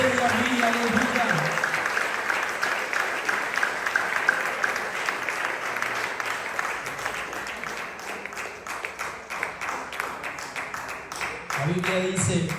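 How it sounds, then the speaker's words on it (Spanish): A church congregation at a sermon applauds with uneven, rhythmic clapping that carries on for several seconds, while voices call out and a speaker talks over it, the clapping thinning toward the end. "¿Por qué no lo aplaude mejor en esta hora?"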